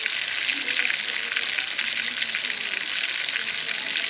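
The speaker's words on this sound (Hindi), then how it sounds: "5 से 6 मिनट तक इसे फ्राई करेंगे अच्छी तरह" Fish frying in a pan, a steady loud sizzle and crackle of hot oil running continuously and close up, with no talk over it.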